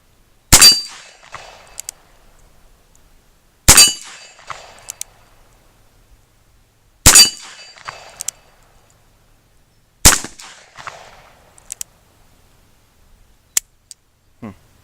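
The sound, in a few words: 357 Magnum reload gunshots hitting steel targets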